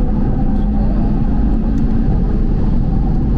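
An Audi TT RS under hard acceleration, its engine a dense, loud, continuous low rumble heard from inside the car, with no talking.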